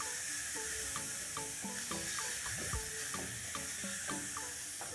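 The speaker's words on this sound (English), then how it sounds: "As my tomatoes are cooking, I'm going to add my spices" Tomatoes and spices frying in a pan for egg curry, a steady close sizzle and hiss with small stirring clinks scattered throughout, no talking.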